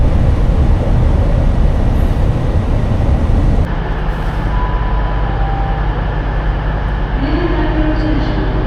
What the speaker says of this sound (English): this is Temple Meads railway station